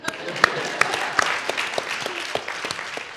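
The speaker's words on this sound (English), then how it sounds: "this man deserves an applause." Audience at an evening talk with chef Vikas Khanna applauding, moderate clapping from a crowd with a few sharp louder claps standing out and voices mixed in underneath.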